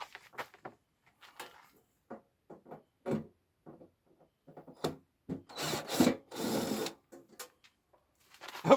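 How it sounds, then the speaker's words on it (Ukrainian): A cordless screwdriver backs a screw out of a lead-acid battery charger casing, with two close, loud whirring bursts of about a second each that come after scattered clicks and handling taps. "А, ну ще один гвинт не відкрутив."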